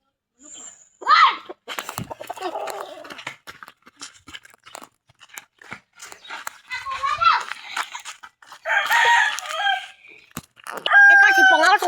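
A rooster crows a few times amid excited children's voices and chatter, the crows loud and near, with clucking in between.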